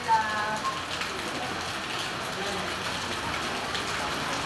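Heavy rain falls steadily at a family resort during a Christmas gathering, a continuous dense hiss of drops on surfaces that stays even throughout, with faint voices in the background.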